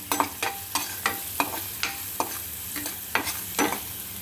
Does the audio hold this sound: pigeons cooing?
no